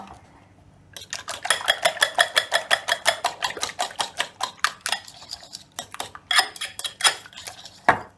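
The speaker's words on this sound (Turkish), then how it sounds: "Şimdi bunları çırpın." Eggs whisked with salt, black pepper, thyme and chili flakes in a bowl: a rapid, steady run of loud, close clinking strokes that turns irregular and ends with a few taps, with no voices.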